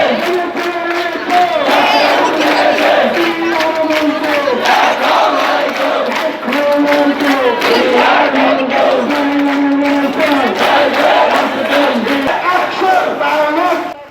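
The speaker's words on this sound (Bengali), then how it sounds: "দাবি আদায়ের লক্ষ্যে তারা সড়ক অবরোধ করে বিভিন্ন স্লোগান দিচ্ছে" A loud crowd of protesters blocking a road chants slogans in rhythmic, repeated call-and-response phrases that go on without a break for the whole stretch.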